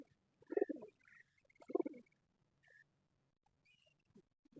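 Teddy pigeons kept for sale in Lahore coo in a few soft, separate bursts with quiet gaps between them, faint and fairly close.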